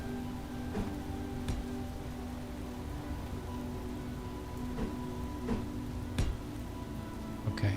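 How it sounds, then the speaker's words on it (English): Steady rain falls in the video game Space Engineers, a continuous hiss with a low hum beneath and a few faint clicks and taps scattered through. "Oh, it's raining."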